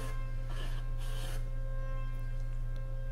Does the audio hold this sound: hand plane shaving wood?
yes